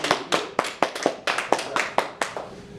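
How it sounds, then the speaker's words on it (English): A single person claps in a slow, uneven rhythm, about a dozen sharp hand claps, close and clear with no talking, welcoming a guest on a talk podcast. "Okay, get clapping for Jerry Love."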